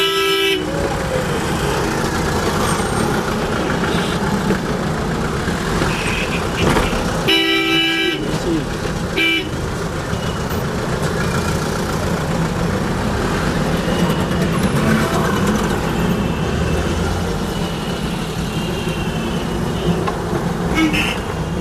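Car horns honk repeatedly in a dense Indian traffic jam, with short toots and longer blasts over a loud, continuous wash of engines and road noise.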